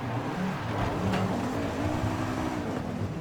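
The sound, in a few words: VW Golf R engine in the video game Forza Horizon 5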